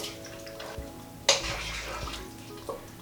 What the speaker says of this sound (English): The bulgur wheat straight in there, stir it through, and that will start to absorb the water.